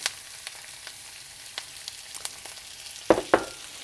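Onions and garlic sizzling in a pan with browned chicken bits, giving a soft steady frying hiss broken by a few light taps and two sharper clatters near the end.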